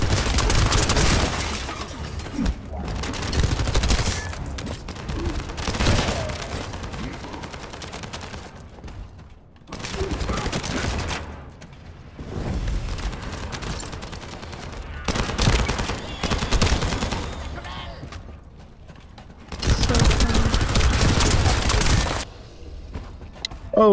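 Video game gunfire from new guns, bursts of loud rapid automatic shots separated by brief lulls, close and intense, with scattered impacts and breaking sounds and no voices over the top.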